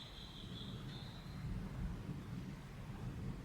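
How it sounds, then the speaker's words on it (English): Low rumbling thunder rolls steadily through the whole stretch, a deep continuous grumble that swells slightly midway, with a faint high whine above it and no talk. "Can y'all hear that thunder?"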